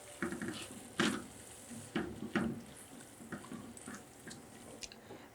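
Scraping and clinking of a spoon stirring green chili paste into mutton keema karahi in a pan, a few distinct sharp strokes over a soft background sizzle, close and moderately quiet.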